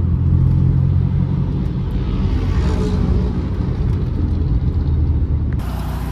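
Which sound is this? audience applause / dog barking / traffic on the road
traffic on the road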